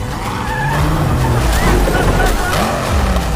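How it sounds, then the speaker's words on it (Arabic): Loud tire squeals and skidding wail over roaring car engines in a film car chase, continuous and intense, with speech mixed underneath. "الفيلم دمار واشتغلت المطاردة بالعربيات."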